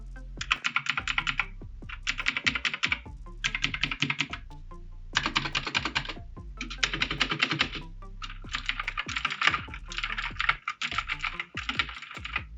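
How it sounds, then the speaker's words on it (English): Rapid, loud clicky keystrokes from a HAVIT KB511L mechanical keyboard with blue switches, coming in bursts of fast typing separated by brief pauses, close up with no voices. "It has that nice blue switch sound that people just love to hear."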